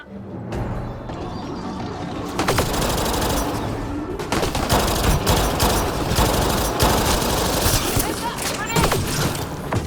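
Dense, rapid gunfire from the video game Mass Effect rattles almost continuously, loud and close, thickening after the opening seconds, with voices talking under the shooting.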